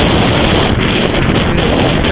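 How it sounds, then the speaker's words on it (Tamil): Steady, loud wind roars and buffets the microphone beside open fields on a road trip from Chennai to Arakkonam, a constant rushing noise filling the whole moment with no pauses. "காற்று சில்லுன்னு அடிக்கிறது"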